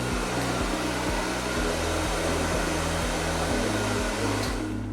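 A hair dryer blowing a loud steady rush of air close by while a vent brush styles a non-surgical hair system, with a low motor hum and a faint rhythmic pulsing throughout, and no speech.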